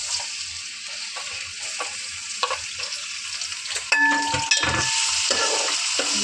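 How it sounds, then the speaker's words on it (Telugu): Chopped onions and green chillies sizzle and crackle in hot oil until golden, with occasional stirring scrapes and a metallic clink near the end. "బాగా గోల్డెన్ కలర్ వచ్చే వరకు వేయించుకోండి ఉల్లిపాయలు"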